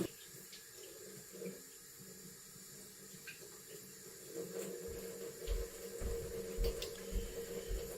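Tap water runs into a sink as chopped onions are rinsed beneath it, quiet at first and then splashing louder with irregular bursts as the onions are moved under the stream.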